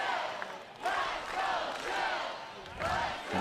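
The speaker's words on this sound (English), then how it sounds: "The crowd's really into it right now" Spectators at a 2023 pro ultimate frisbee semifinal between Minnesota Wind Chill and Salt Lake cheer and shout in swelling waves, a roaring crowd heard at some distance with a commentator talking over it.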